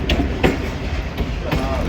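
A train rolls through a small crossing station on Pakistan's ML-2 line without stopping, its steady rumble punctuated by a few sharp clacks of wheels over rail joints, close by and loud.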